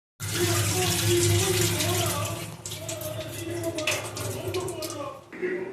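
Water runs steadily from a tap while mutton is rinsed, a close gushing flow that later eases to a lighter, uneven trickle with splashes, with a voice speaking over it.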